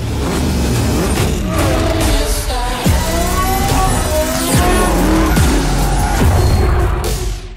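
Race cars in Forza Motorsport 7 roar past with engines revving up and down through gear changes, tires squealing and skidding continuously, loud and close throughout.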